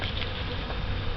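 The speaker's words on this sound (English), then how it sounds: "Let's watch and see how there's a bee coming out of the entrance." Honeybees buzz steadily at the entrance of a newly installed package hive, a dense continuous drone close to the ear with no talking.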